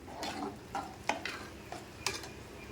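Rice being stirred in a pressure cooker with salt added, giving soft scraping strokes at a steady rhythm, close and fairly quiet, with no talk.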